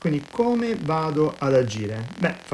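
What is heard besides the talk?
None of the usual background noises is heard.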